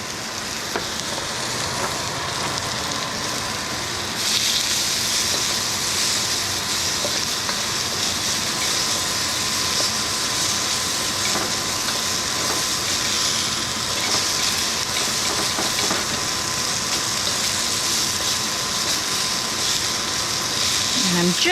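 Onions sautéing in plenty of oil in a well-used, fairly non-stick pan, a steady dense sizzle throughout that brightens partway in, with no clear pauses.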